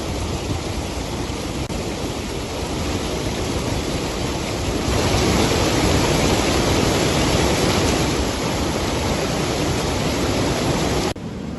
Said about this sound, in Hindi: बारिश के चलते सिवनी नदी उफान पर है, नदी का पानी पुल पर चढ़ गया है।